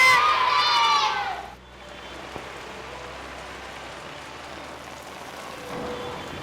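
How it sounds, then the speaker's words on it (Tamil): Heavy rain pours steadily across a school campus, a dense hiss that carries on after a burst of children's shouting at the start, with a faint tonal sound near the end. "நல்லா மழை பெய்யுது"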